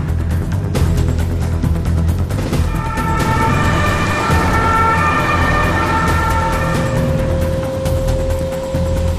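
A quarantine ambulance races to a hospital in Dortmund, its siren wailing loudly over steady road and engine noise, the tone rising and holding through the passage.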